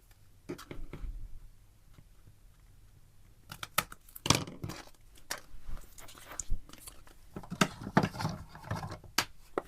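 Scissors snipping through craft paper for a mixed-media masterboard, a few quiet clicks early on, then bursts of sharp crisp cuts and rustles close by; no talking.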